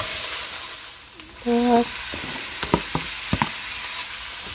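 Chopped onion frying in a pan while being cooked until lightly browned for Filipino vegetable lumpia, a steady low sizzle with scattered clicks of stirring, brief voice speaking over it.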